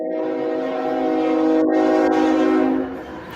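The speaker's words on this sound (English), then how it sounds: "The train goes by." Train rumbling past at close range with a long, loud horn blast sustained over most of the stretch, steady rail noise underneath, no voices.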